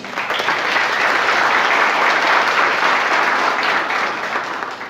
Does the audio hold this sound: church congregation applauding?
yes